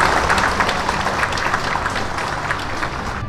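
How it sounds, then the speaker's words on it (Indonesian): Applause at a ceremony handing over appointment decrees to new government contract teachers and staff, a broad crowd clapping that holds steady and then gently tapers, heard at moderate distance. "Tepuk tangan untuk semuanya."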